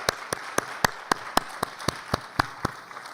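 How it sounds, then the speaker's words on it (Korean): Slow, evenly spaced claps from a church congregation at an Easter Sunday service, sparse and fairly faint, about a dozen beats with no talk. "우리 하나님 아버지께 우리 박수 함으로 영광의 박수 돌리도록 하겠습니다"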